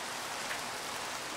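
Rain in the Minecraft SevTech Ages modpack, a steady dense hiss of falling rain that runs evenly through the clip, alone without talk.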